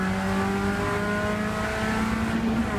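Race cars run side by side through a chicane at a Rockingham trackday, their engines droning loudly and continuously with rising and falling tones and no speech.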